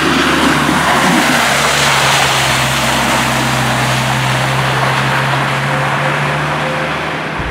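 Dodge Viper driving on a wet road in the rain with wipers on, a loud, steady engine drone and tyre hiss from inside the car, with no talk.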